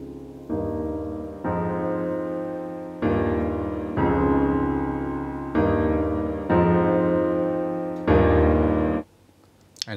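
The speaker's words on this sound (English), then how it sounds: "hear the auto filter at work" Held synth chords from a remake change every second or so, each swelling and fading with an auto filter sweep, loud and alone without voices.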